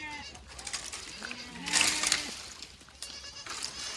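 Goats bleat in short wavering calls around a farmyard, with birds chirping and faint background noise between the cries.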